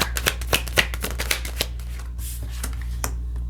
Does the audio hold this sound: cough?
no